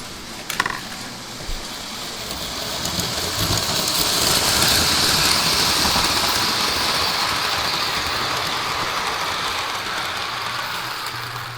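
A Lionel model toy train's small motor hums and whirs continuously with a faint rattling, swelling slightly then easing, alone without voices after a couple of sharp clicks at the start.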